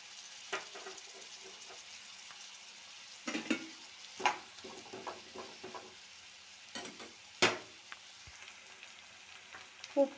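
Onion and green chillies frying in a pan, a soft low sizzle broken by several scattered stirring clinks and scrapes, fairly quiet and with no talking.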